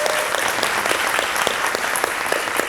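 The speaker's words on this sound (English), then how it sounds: "So let's give a round of applause for our vendors" A school event audience applauds its vendors with steady, dense clapping from many hands that stays even throughout.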